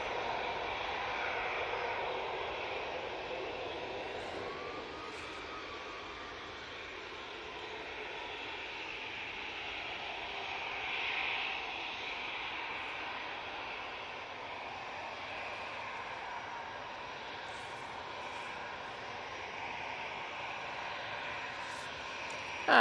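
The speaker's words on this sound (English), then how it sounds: "That Ryanair 737 is off to Porto." A Ryanair Boeing 737 departs Manchester Airport with a sustained, distant jet engine roar that swells slightly midway and slowly fades, with no talk over it.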